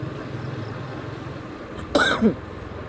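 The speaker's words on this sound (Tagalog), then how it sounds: "inuubo na tayo ng lamig." A single short cough from the cold bursts out near the end of the clip, close and fairly loud, against a quiet foggy outdoor background hiss on Mayon Skyline.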